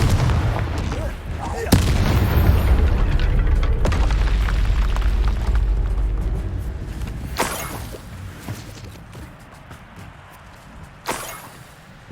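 A Confringo fire spell in Hogwarts Legacy erupts in a loud, booming explosion with a rolling rumble that fades, followed by a couple of sharper bursts later on.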